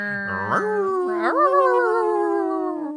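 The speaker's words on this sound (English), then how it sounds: "He's barking." A dog gives a couple of drawn-out howling whines, close and fairly loud, rising and then trailing off.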